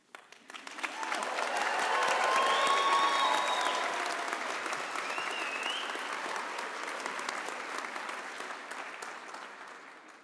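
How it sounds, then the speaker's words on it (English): Audience at an art and design college commencement ceremony in a fine arts center applauding and cheering: a swell of clapping that rises quickly, holds loud and full, then slowly tapers off, with a few whoops above it. "we encourage you to applaud and cheer enthusiastically"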